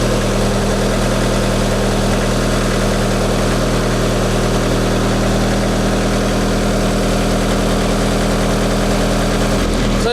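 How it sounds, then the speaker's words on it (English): The hydraulic drive of a 6036T conveyor drones steadily as the front end is raised to its first operating position, a loud continuous engine-like hum with little change until a slight shift at the very end. "taking this handle, pushing it that way to where it says raise front. Go up to our first operating position."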